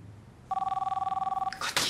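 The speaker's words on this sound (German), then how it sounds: "Gottchen, dieses Telefon." An old-style telephone bell rings in one rapid, trilling burst of about a second in a quiet room during a German TV drama, followed by a brief rustling sound.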